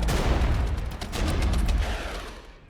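Artillery fire from a modern NATO-era war strategy game arrives as sustained, layered thuds and crackling blasts with a dense rumble underneath, rolling on for a couple of seconds before tapering off.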